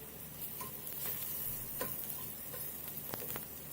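Sweet potato tikkis fry in ghee in a pan, giving a quiet, steady sizzle with a few sharp crackles and ticks scattered through it. No one speaks.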